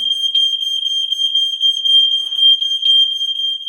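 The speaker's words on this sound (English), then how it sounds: "sounds like it is connected to the alarm up here as well" A smoke alarm sounds a loud, steady high-pitched tone with brief beeping pulses, continuous and close by, with no talking.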